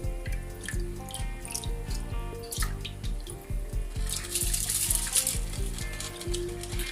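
Rice is tipped into a pot of plain boiling water for Hyderabadi-style chicken 65 biryani, giving a sustained watery rush and splashing that swells near the end, over steady background music.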